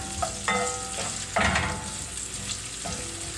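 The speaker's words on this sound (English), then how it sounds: "those are sauteing away" Onions sautéing in a pan with salt, a continuous close sizzle and crackle with a few louder bursts of stirring and scraping, no voices.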